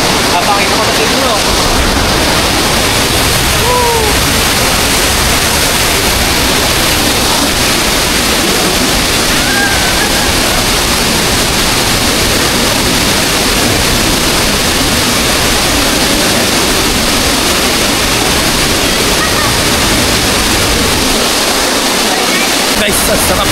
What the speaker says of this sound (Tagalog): Nandito na tayo sa may Taytay Falls. Sobrang grabe yung agos.